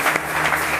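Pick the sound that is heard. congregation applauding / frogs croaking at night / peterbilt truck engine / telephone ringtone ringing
congregation applauding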